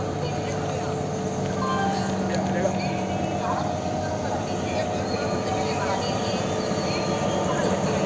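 Diesel locomotive of the narrow-gauge Kalka–Shimla toy train, a steady low engine drone with faint metallic wheel squeal, heard nearby for several seconds under a continuous rumble.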